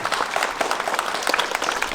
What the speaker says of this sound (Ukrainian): Давайте не жаліти оплески.